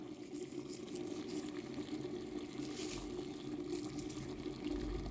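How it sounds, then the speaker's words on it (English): Water at a steady rolling boil, with dried butterfly pea flowers (Asian pigeon wings) added for a blue upma. It makes a continuous, even bubbling hiss throughout, fairly close and moderately quiet, with no talking. "In this boiling water, I will add dried flowers of Asian pigeon wings,"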